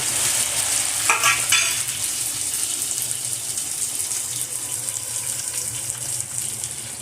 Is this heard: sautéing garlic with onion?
yes